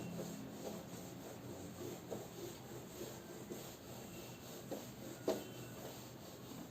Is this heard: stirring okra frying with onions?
no